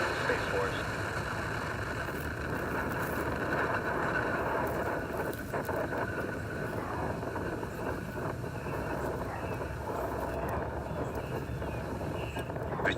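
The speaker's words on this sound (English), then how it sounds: "Engine full power. And liftoff of USSF 67. Go Falcon Heavy." Falcon Heavy rocket carrying USSF 67 lifting off, heard from a distance in DeBary, Florida, as a steady broadband rumble and roar that holds level throughout, with wind buffeting the microphone.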